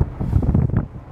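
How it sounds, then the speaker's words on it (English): Wind blows high up on the extended aerial ladder of a fire ladder truck, a steady, loud, low rumbling buffet against the microphone with no talking. "it's a pretty windy up here right now."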